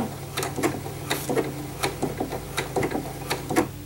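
A Janome sewing machine runs a short locking stitch on fabric, giving a close, steady train of quick mechanical clicks and needle taps over a low motor hum, with no voices.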